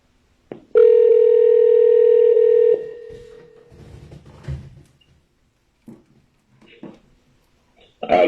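A telephone dial tone hums steadily for about two seconds as a call is placed, then cuts off, followed by faint handling noises and a few muffled clicks.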